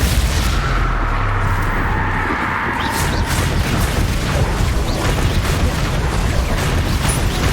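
Bombarda, an explosion spell in the Hogwarts Legacy video game, going off: loud, dense booming and crashing that fills the whole stretch as a continuous roar of blasts and rumble.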